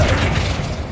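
A loud, sustained magical burst as the Flipendo spell is cast in the video game Hogwarts Legacy, a dense whooshing boom lasting about a second with no voices over it.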